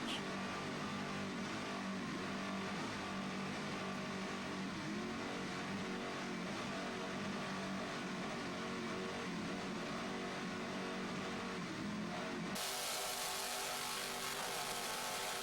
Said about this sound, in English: Just listen to those 800 horsepower United Racing engines.